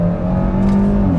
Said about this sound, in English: this does have a sport tune exhaust here. It sounds pretty good, honestly.